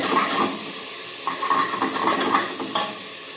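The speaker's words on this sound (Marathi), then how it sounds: "चांगला हलवून घेते।" Peanuts frying in oil in a pan while being stirred, a close, steady sizzle broken by repeated scraping and rattling strokes of the spoon, no talking.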